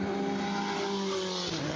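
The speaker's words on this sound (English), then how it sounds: "It's the car coming through turn 8 right now." A race car runs through turn 8 at Summit Point Raceway during the Jefferson 500 endurance race, its engine a loud, sustained drone with a shifting pitch as it passes, heard alone without talk.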